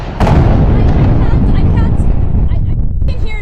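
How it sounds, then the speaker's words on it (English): Loud, continuous rumbling explosions and booming bursts fill a recreated nuclear war scenario, dense and overwhelming throughout, with a voice faintly present beneath. "We're going to direct the camera now towards the explosions."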